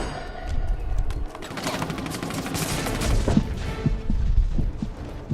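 Dense gunfire barrage in The Saboteur video game, a continuous rapid crackle of overlapping shots and bursts with heavy low rumble, loud and sustained across the whole stretch.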